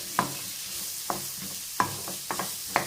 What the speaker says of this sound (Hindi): सब्ज़ी जो है शिमला मिर्चें है ना, वो डाल के इनको सौते करेंगे